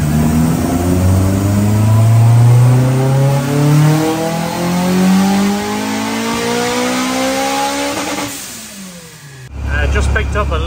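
A Honda S2000 with a single exhaust, set up as a track car, revs up repeatedly through its VTEC range, the engine note rising and falling loudly before a sharp cut and a renewed drone.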